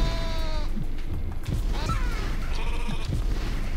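Sheep bleat loudly and repeatedly in a cartoonish game scene in Rain on Your Parade, layered over a dense, noisy background.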